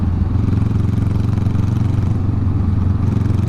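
A motorcycle rolling over a very rough road surface, a loud, steady engine drone with rapid pulsing and rattling clatter throughout, close to the rider, no voices.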